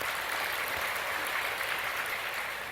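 A church congregation claps in encouragement during a Sunday sermon, giving a dense, steady wash of many hands that holds at an even level for the whole moment, with no voices over it.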